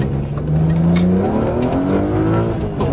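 BMW X6M on new Michelin tires accelerating hard from inside the cabin, its engine note climbing steadily in pitch through a gear, loud and continuous with no talk.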